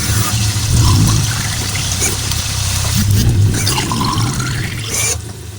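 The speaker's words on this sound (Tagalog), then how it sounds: "lalagyan ko lang ng kaunting tubig." Water pours and splashes continuously into a cooking pan of sautéed pancit, a busy gurgling wash at steady volume that tapers off near the end.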